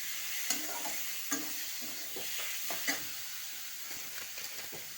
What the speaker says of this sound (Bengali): চিংড়ি মাছগুলো দিয়ে ভালো করে কষিয়ে নিয়ে